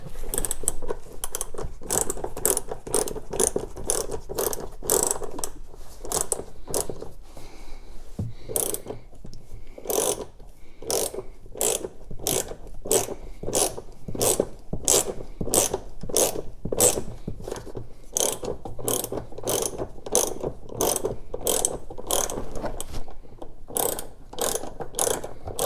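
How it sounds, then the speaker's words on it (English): A hand ratchet loosens bolts on golf cart seats, its sharp pawl clicks repeating in quick, steady runs close by, with brief pauses between strokes. "I'm gonna loosen these 2 bolts in the back"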